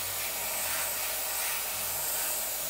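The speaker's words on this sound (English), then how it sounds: "I'm going to give this one more spray, just to make sure we've got our vivid red that we want" An aerosol can sprays vivid red paint onto a 1/48 scale Airfix P-51D model plane, giving a steady, close, unbroken hiss that runs the whole time.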